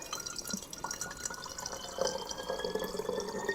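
Distilled water is poured through a funnel, giving a soft, continuous trickle and gurgle that grows slightly fuller toward the end, quiet and close, with no talk.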